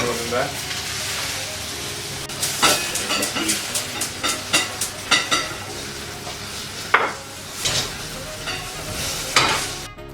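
Onions and garlic frying in a pan for a Palestinian moussaka, a constant sizzle broken by a series of sharp, close scraping stirs that come in uneven bursts.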